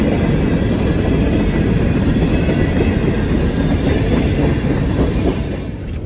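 A freight train hauled by a DC and an ET44 locomotive passes close by on the Garrett subdivision: a loud, continuous rumble and clatter of wheels that fades slightly at the end, with no voices.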